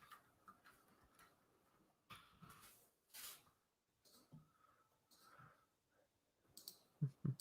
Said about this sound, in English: Typing in Roto World, hoping something pops up.